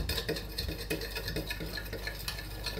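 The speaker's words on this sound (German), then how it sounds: "Das verrühre ich schon mal mit einem Schneebesen." Turmeric and other spices being stirred with a whisk in a bowl, a soft steady close scraping and rubbing with faint clicks, quiet throughout.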